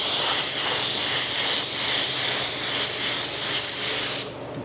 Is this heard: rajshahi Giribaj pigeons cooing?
no